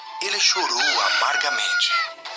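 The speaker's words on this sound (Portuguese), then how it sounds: "Quando ouviu o galo cantar" A rooster crows loudly and at length with a rising, strained call, while a voice narrates over part of it.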